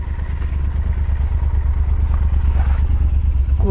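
A motorcycle fitted with a new clutch rides along on the way to Șipot Waterfall, its engine a steady, loud, continuous drone with a rhythmic low pulsing throughout, close and unbroken.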